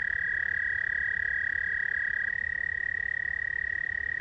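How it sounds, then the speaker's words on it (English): A single frog croaks in a steady, continuous high-pitched trill that runs unbroken throughout, over a low background hum of night ambience. "There's one of the frogs making all that noise."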